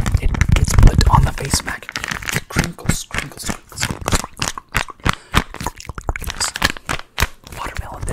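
A face mask being handled close up gives rapid bursts of crisp crinkling, under and between soft whispering.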